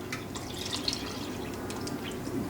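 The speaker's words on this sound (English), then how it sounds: "I'm going to put in 700 mils of apple cider vinegar." Apple cider vinegar, 700 ml, is poured into a hot mango ginger sauce, heard as a faint, continuous trickle of liquid with light drips and splashes.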